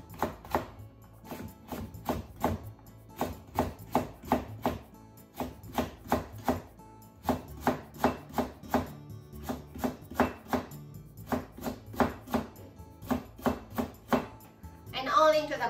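A knife chops a sweet potato into matchstick strips on a cutting board in a steady, fast rhythm of crisp taps, close and loud, with brief pauses between runs.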